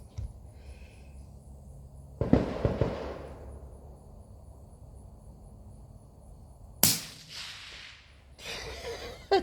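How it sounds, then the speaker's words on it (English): Suppressed .17 HMR rifle rounds strike a steel target at 200 yards, heard as sharp distant metallic pings after each quiet shot, with two or three bursts spread across a calm outdoor range. "I can hear it hitting steel at 200."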